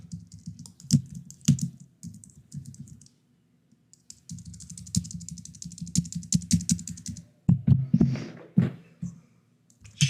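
Fast bursts of computer keyboard typing as a command is entered, crisp key clicks in quick runs with a short pause in the middle, close and clear with no talking.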